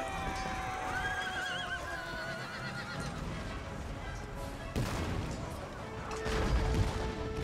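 Horses neigh and whinny during a cavalry charge in the Empire: Total War battle game, set amid a steady din of battle noise with occasional crashes and distant gunfire; several whinnies rise near the start and again later.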